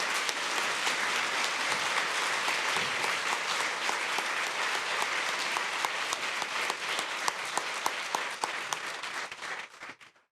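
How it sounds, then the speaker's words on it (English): Sustained audience applause for cadets at the 2018 Kitsap County Sheriff awards ceremony, a dense, steady wash of many clapping hands that holds evenly and then tapers off at the end. "Round of applause for all of our cadets, please."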